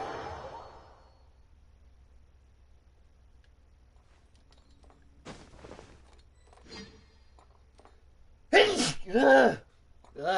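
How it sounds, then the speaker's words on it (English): Two sharp, loud sneezes in quick succession come near the end after a stretch of quiet breathing and small sounds, close to the listener. "Man, I hate the morning sneezes."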